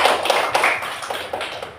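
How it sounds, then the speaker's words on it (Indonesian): A classroom of children claps hands together, a dense, continuous patter of many close claps that gradually fades. "Tepuk tangan sekali lagi."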